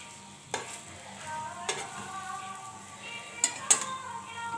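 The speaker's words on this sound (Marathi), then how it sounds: "ही आपली शिमला मिरची आता तळत आलेली।" Stuffed capsicum bhaji frying in oil on a stove gives a soft steady sizzle, broken by a few sharp clinks of a spoon or utensil against the pan.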